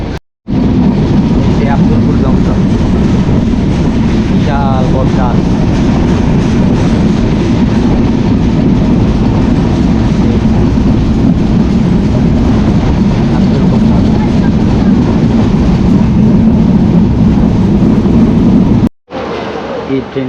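A train runs past near Abdulpur junction, a continuous heavy rumble and rattle of rail cars that stays loud and steady, then cuts off abruptly near the end.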